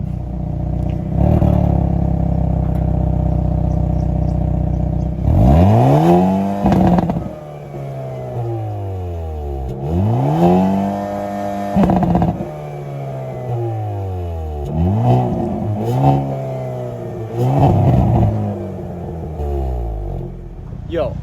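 Stock exhaust of a Hyundai Kona N heard from outside the car, several loud revs that climb and fall back, separated by idle pauses, with people talking between them.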